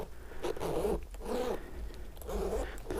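A zipper being slid back and forth after treatment with lubricant, once broken and separated; three rhythmic close-up rasping strokes with short pauses between them.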